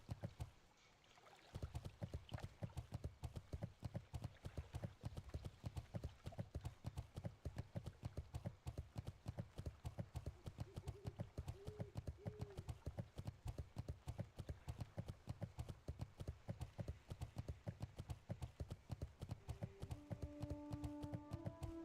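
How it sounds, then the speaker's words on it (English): Steady, rapid hoofbeats of a ram mount in World of Warcraft trotting through a keep, an even clip-clop rhythm that runs throughout, close and moderately loud, with faint game tones near the end. "Just riding my goat in the keep. Ram, not goat."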